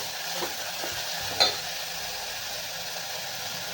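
Misal rassa being sautéed and stirred in a pan at home, a soft steady sizzle with a couple of light spoon scrapes and a small clink, close and fairly quiet, no voices.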